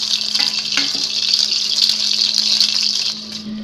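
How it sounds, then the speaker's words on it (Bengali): Fish masala gravy boils in a pan with a steady, bright hiss and sizzle that stays even and continuous for a few seconds, with no voices. "এখন আমরা এটা ফুটিয়ে রাখতেছি।"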